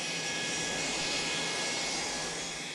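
Continuous whooshing engine roar from an aircraft taxiing at an airport, steady and broadband with a faint tonal whine, fairly close and uninterrupted.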